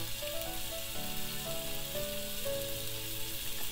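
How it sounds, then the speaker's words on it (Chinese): Beef for roast beef sears in a frying pan, giving off a dense, even sizzle that holds steady throughout, with a faint melodic tone running softly underneath. "1分钟后翻面再煎1分钟，四周围总共煎约5分钟，上下两端也各煎30秒左右"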